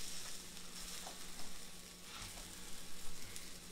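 Breaded red tomato slices fry in hot oil, giving a steady close sizzle with small pops and crackles throughout.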